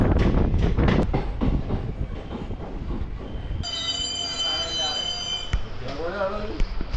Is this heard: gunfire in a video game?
no